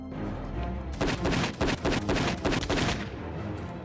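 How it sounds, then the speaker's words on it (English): Rapid assault rifle bursts ring out in the PS2 shooter Don 2: The Game, loud and close, a dense string of repeated shots lasting about two seconds. "Let's use the assault rifle."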